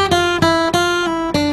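A stringed instrument, likely banjo, picks a quick triplet run in four bright plucked attacks, each note ringing with clear harmonics before the next; solo and close, with no talking.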